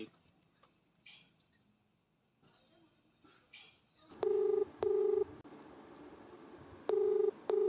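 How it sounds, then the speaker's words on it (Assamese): A telephone being dialed, its keypad giving loud, steady touch-tone beeps in short bursts, with faint talk and rustling before it. "তই এতিয়া এক ফোন মাৰ"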